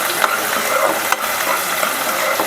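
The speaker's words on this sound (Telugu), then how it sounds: "ఇప్పుడు ఈ ఉల్లిపాయలు గోల్డెన్ బ్రౌన్ కలర్ వచ్చేదాకా ఫ్రై చేసి తీసుకుందాం" Onions fry with salt in hot oil for gongura chicken curry, a loud continuous close sizzle with faint stirring scrapes and crackles.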